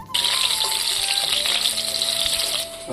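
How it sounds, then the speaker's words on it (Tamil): Steady sizzling of small onions frying in a little hot oil, a continuous bright hiss close up with faint clinks in the background. "சின்ன வெங்காயத்தை வறுத்துக்குவோம்."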